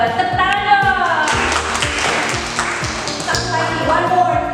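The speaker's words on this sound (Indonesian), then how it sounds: "Tepuk tangan dong." Students clapping in a classroom, brisk hand claps of moderate loudness mixed with a teacher's voice talking over them.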